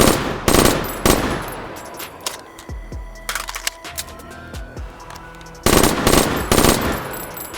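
A Black Ops III machine gun fires in the H3VR video game: loud rapid bursts of automatic fire, a pause filled with metallic clicks and handling rattles, then another long close burst.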